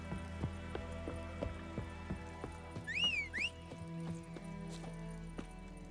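Horse hooves clip-clop in a steady rhythmic gait in The Witcher 3, with a short whistle-like call in the middle and soft game ambience underneath.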